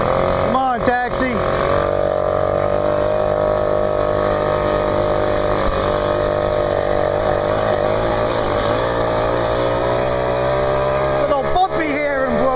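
A taxi rolling over a bumpy road in Brooklyn, with a continuous loud engine and road rumble, pitch wavering as it bounces, and a few sharp knocks and rattles at the start and near the end.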